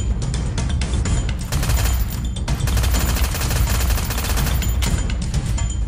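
Gunfire in the video game Free Fire rattles out in rapid, dense bursts of shots, loud and close, nearly continuous for several seconds with short breaks between volleys.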